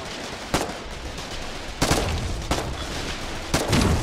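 Bursts of gunfire in the Colonial Marines game come in four loud, close volleys spaced about a second apart over a constant combat rumble.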